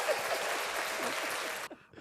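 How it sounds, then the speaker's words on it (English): Studio audience applause filling about a second and a half with dense, steady clapping, then cutting off abruptly as the room falls quiet with faint murmurs. "Give him a round of applause."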